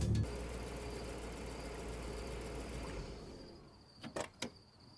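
A car engine runs with a steady low rumble for about three seconds, then cuts off, followed by silence and a couple of short mechanical clunks.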